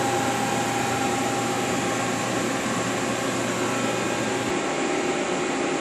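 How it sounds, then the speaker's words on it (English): Small CNC machine in a workshop running while making side plates fixtured to a plate, giving a steady loud broadband whir and hum that dips slightly near the end, with no talk. "Here's another little machine. Got a guy here making side plates."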